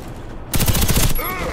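A rapid burst of assault rifle fire in the shooter game Warface, a loud, close fusillade lasting about half a second before fading into a brief ringing tail.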